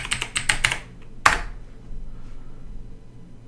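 A burst of quick key presses on a computer keyboard as a password is entered, then a single sharper keystroke, followed by quiet.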